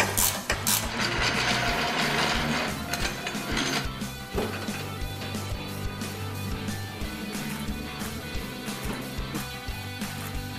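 Wrench tightening Steersmarts Yeti steering components on a vehicle, heard as metallic ratcheting and clinking mixed with busy mechanical clatter throughout, dense and fairly loud.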